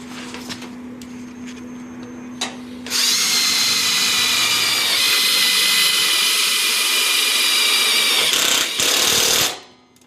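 A power drill drives 5/16 by 3/4 screws into sheet metal while a flat curb is being fabricated. It makes a loud, sustained high whine close up, lasting about seven seconds before it cuts off, with faint workshop noise before it starts.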